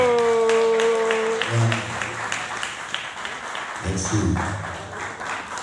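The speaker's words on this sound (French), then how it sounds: "On applaudit, s'il vous plaît" Audience applause at a doctoral thesis defence ceremony, a modest sustained patter of clapping mixed with voices and tonal sounds throughout.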